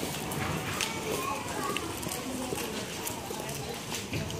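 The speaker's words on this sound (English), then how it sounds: "Trot your horses, please." Horses trotting under saddle in a show ring during an open hunter class, a steady blend of hoof clip-clop and broad arena noise with an announcer's voice over it throughout.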